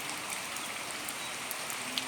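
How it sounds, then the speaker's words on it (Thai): Morning rain falling steadily beside a house near the Pattani river, a soft continuous hiss of drops on surfaces with no speech. "แล้วนี่คือฝนกำลังตก"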